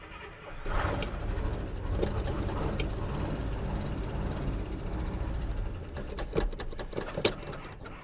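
A 1956 Buick Century engine catches after a quiet start and settles into a steady, close rumble that holds to the end, with a few sharp clicks and knocks near the finish.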